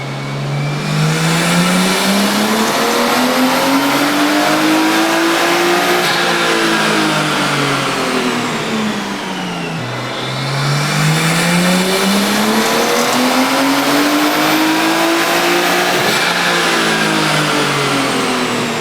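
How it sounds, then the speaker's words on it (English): Nissan Skyline GT-T R34 with a tuned RB engine on a dyno, loud and continuous, climbing through two long rising revs with rising pitch, a brief dip to idle between them, then falling back at the end; no talking. "we'll go ahead and we'll make some more dyno passes"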